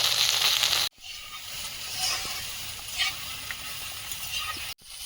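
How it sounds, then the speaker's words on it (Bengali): Food frying with salt and turmeric in a pan in a home kitchen sizzles loudly and steadily at close range, with two abrupt short gaps in the hiss and no one talking. "লবণ হলুদ দিয়ে ভাজাটা বসিয়ে দিলাম"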